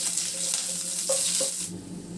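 Sliced green chillies sizzle steadily in hot oil in a pan. The frying hiss is continuous and fairly loud, with a few brief stirring clinks, and it eases slightly toward the end.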